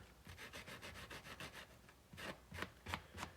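Soft rhythmic rubbing strokes of light sanding with a fine-grit sanding block on a Delco-Remy 10SI alternator part, quick even passes followed by a few slower, firmer strokes, close and quiet.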